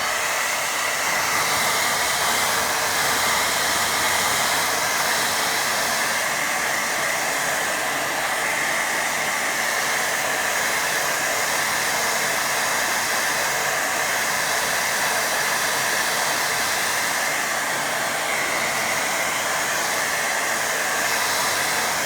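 A hair dryer blowing on a watercolour river-at-dusk painting, a loud, steady whooshing hiss that runs continuously and unchanging for the whole stretch, with no talking.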